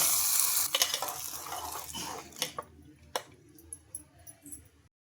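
Hot oil sizzles and crackles as a tempering is poured into chutney and stirred, followed by a few soft spoon taps and scrapes.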